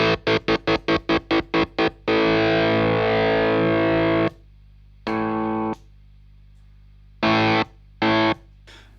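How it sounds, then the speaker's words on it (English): A heavily distorted Les Paul electric guitar, its neck pickup volume switched off and on, chops in rapid stutters, then sustains loud chords that cut abruptly to silence several times. "I'm going to put some distortion on here, and I'm going to turn the volume off on the neck pickup"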